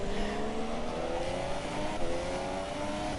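Race car engines in a Formula 3 video game race, cars at Spain's circuit, whining loudly and steadily with rising pitch as they accelerate, a continuous high drone with no talking.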